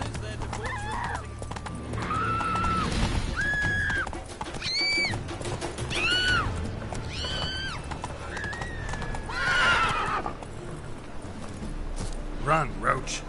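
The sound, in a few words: horse Roach galloping in video game Witcher 3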